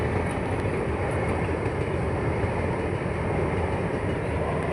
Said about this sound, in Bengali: এই দেখুন ট্রেনটা যাচ্ছে